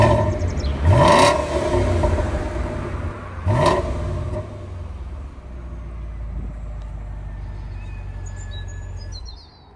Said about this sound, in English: I'm going to start this car up so you can hear the wonderful exhaust noise this car makes.